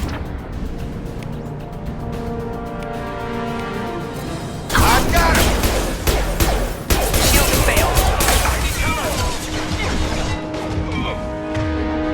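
Firefight in the video game Mass Effect 2 against Blue Suns mercenaries: bursts of rapid gunfire and sharp impacts erupt after a calmer ambient stretch, continuing loud and dense with layered game effects, and no speech.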